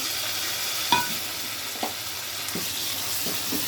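Ginger garlic paste sizzles in a pan with fried onions and green chillies, a soft steady frying hiss with a few clinks and scrapes of a spoon stirring.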